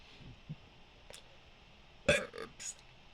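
Burping from a person doing burp talking, a loud belch burst with a couple of follow-up gulps after faint earlier throat sounds, close to the mic.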